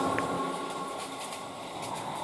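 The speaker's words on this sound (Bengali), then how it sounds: "ট্রেন ছুটে চলেছে" A train runs at speed with the windows shut, giving a steady low rumble and rushing hiss throughout, with faint rhythmic wheel noise and no voices.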